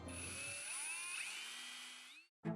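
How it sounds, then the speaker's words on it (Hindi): A hand drill spins a bolt to strip flakes of old paint, a steady high whine with shifting tones that slows and drops in pitch before stopping, followed by a short burst of noise. "जिसे हमने ड्रिल में बांधकर बेकार पेंट के कतरों को हटाया।"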